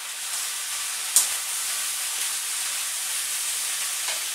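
Chicken and vegetables with spices fry in a large pan while being stirred, giving a steady, loud sizzle and hiss with one sharp scrape of the utensil partway through and a fainter one near the end.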